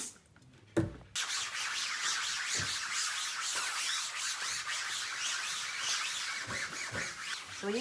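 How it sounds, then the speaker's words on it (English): The green abrasive side of a sponge scrubs a household surface during a spring clean, making a continuous close rasping rub with rhythmic strokes after a brief knock at the start. "So I use the green scrubby side, abrasive side, to begin with, and then I flip it over and use the soft white side."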